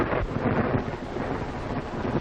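Steady rain with low thunder rumbling outside an old dark house at night, a continuous heavy wash of noise with no voices.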